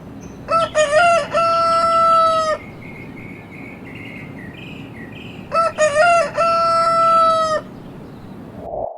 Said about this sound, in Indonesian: Bagi orang-orang yang memelihara ayam jago atau orang yang tinggal di pedesaan, sepertinya tidak asing dengan suara kukuruyuk di pagi hari.